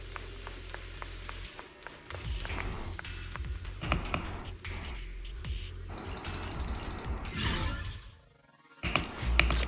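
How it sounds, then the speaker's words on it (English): Machinery in the game Zenless Zone Zero: mechanical clanking and ratcheting of gears grinding along steadily, with a brief high whirring burst midway, moderately loud and no talking. "That's the sound of machinery."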